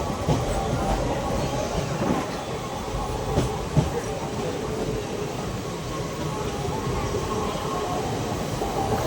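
Malda Court to Siliguri DEMU passenger train running, a steady loud rumble of wheels and carriage noise with a few brief knocks, continuous throughout with no talking.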